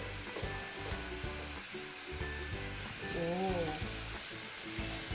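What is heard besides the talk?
luchi deep frying in oil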